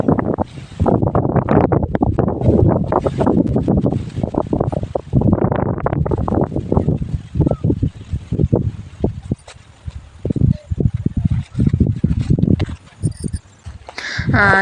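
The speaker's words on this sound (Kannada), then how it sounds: "ಗಾಳಿ ಅಂತೂ ತುಂಬಾ ಗಾಳಿ ಬೀಸ್ತಾ ಇದೆ ನೋಡಿ" Strong Ashadha monsoon wind gusts across farm fields and buffets the microphone with loud, irregular roaring bursts that rise and fall for the whole stretch.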